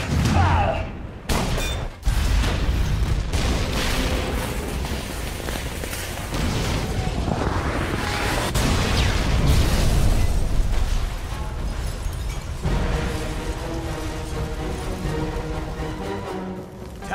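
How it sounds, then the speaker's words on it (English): A tower collapses amid a chain of explosions in the video game Captain America: Super Soldier, with loud booms and crashing rumble sustained for many seconds, then a muffled roar as it settles, with game music underneath. "Tower's coming down."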